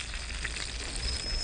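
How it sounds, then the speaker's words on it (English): Baked red snapper sizzling in a hot pan, a steady bright crackle and hiss holding evenly throughout with no talking. "It's all sizzling."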